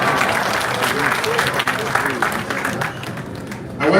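Audience clapping at a government launch of a midterm national development plan, broad crowd applause with voices mixed in, tapering off toward the end.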